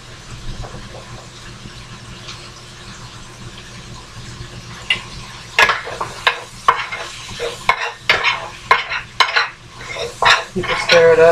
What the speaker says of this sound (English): You can stir it up, keep an eye on it.